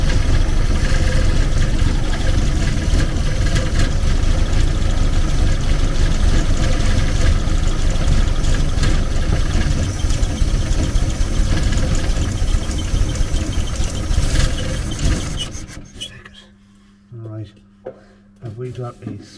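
A VW Camper engine idles with a loud, steady rough chug that drops away near the end, leaving quieter workshop sounds.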